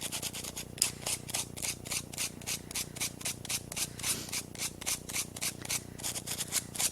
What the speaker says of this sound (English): So I would just find an area and start sanding.